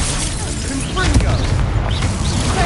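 A Confringo blasting spell explodes in a magic-combat video game, a loud, dense roaring blast that fills the whole moment with crashing noise and no quiet gaps.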